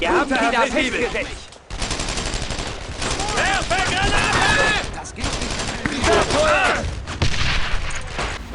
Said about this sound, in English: how they sound firing high caliber rounds